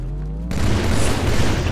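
Frag grenade detonating in a video game, a sudden loud boom that cuts in after a low droning hum and rumbles on, with no talk.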